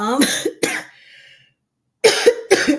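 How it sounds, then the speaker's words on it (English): Two sharp coughs from a person with a viral illness, a short pause, then two more harsh coughs close to the listener. "if you hear me cough, just know I am not doing it intentionally"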